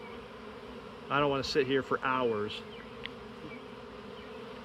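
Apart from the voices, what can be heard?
swarm of bees buzzing around a hive box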